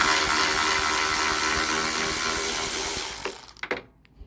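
Power wrench whirring loudly and steadily as it spins out 10mm bolts on a Ford F150 headlight, then the motor winds down in a few stuttering bursts and stops.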